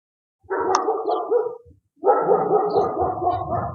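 A dog gives two long, drawn-out barking outbursts close by, the first about a second long and the second longer, separated by a brief silence.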